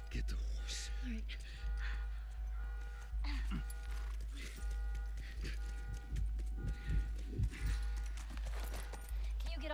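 Horse hooves clip-clop in The Last of Us, a steady rhythmic plodding under game music and a low droning background, with voices talking over it throughout.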